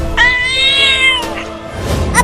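A cartoon cat lets out one loud, drawn-out meow that rises and then breaks off, followed by a short stretch of quieter background noise, with no talking.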